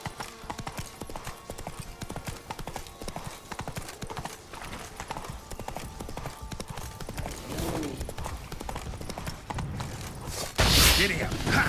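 Horse galloping in the video game The Witcher 3, rapid rhythmic clip-clop of hooves, close and steady, with a voice urging it on and a louder burst near the end.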